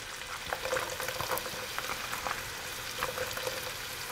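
Celery cooking down in a pan of melted butter and olive oil for chicken pot pie, giving a steady, close sizzle and crackle with scattered pops throughout, no voices.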